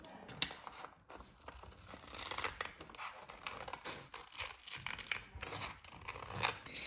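Scissors snip through paper for a homemade Easter bunny and egg squishy, a steady run of close, small crisp cuts and rustles with no talking.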